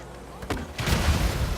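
A vehicle explodes in GTA 5 Online during the Arena War update. A short thump is quickly followed by a louder, rumbling blast that lingers over the game's background noise.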